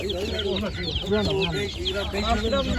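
Tokat chickens cluck busily and densely at a crowded poultry market in Ankara, close by, with people talking over the birds.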